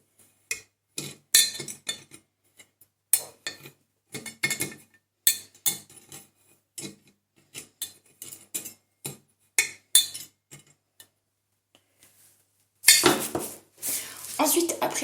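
Small aquarium tools scraping and tapping inside a glass terrarium while spreading substrate, a series of short clinks and scratches separated by brief pauses, then a louder burst of rustling near the end.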